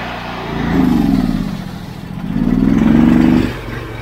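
A Honda IGX800 engine that bogs down revs twice as its throttle is cracked open, each surge swelling for over a second then easing, loud and close with no talk.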